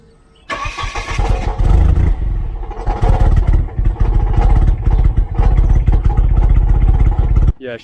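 A Volvo 940 Turbo engine starts and then runs roughly, a loud, close, uneven clattering idle with shaky pulses that continues for several seconds before cutting off.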